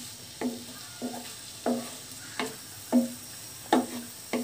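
Radish pieces frying in a pan while a spatula stirs them now and then, giving about seven evenly spaced scraping strokes over a soft, steady sizzle. Close by, with no voices.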